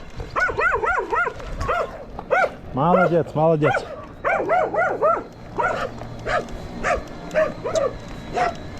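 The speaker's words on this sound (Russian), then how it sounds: "Какие злые собаки!" Several dogs bark and yip in a noisy, overlapping volley, loud and close, with some whimpering, while a voice talks over them.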